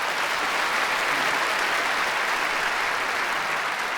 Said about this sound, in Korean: 한번 감사의 박수를 올리겠습니다